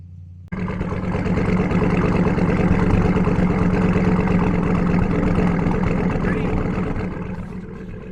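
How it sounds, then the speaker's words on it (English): A Ford F-150 truck engine starts up and settles into a rough, uneven idle, a loud, steady low rumble held close by for several seconds before easing off slightly at the end. "Pretty rough idle."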